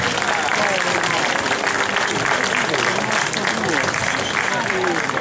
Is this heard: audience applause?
yes